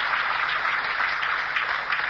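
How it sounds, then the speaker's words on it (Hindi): An audience claps together in a sustained, even burst of applause, dense and moderately loud with no voices over it. "अरे जोरदार तालियां अपने लिए।"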